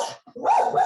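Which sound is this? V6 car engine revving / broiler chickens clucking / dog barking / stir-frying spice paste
dog barking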